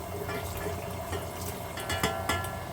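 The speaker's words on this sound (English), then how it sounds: "I'm going to go ahead and put the water in" Water poured into a bowl of pot pie dough mixture for a 1930s-style chicken pot pie, a steady close trickling and splashing that runs throughout at moderate level.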